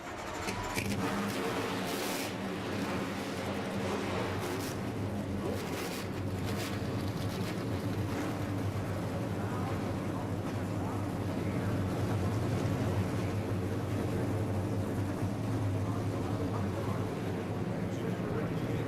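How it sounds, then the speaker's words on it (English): A field of 36 NASCAR race vehicles fires up together at the start of a race, a dense, continuous engine roar with a steady low drone that fills the whole stretch, mixed with wind noise and crowd sound. "Drivers, start your engines!"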